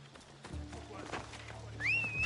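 A horse in the Assassin's Creed Odyssey video game, a soft clip-clop and brief whinny-like tone rising near the end over a low steady game rumble, with a voice talking faintly underneath.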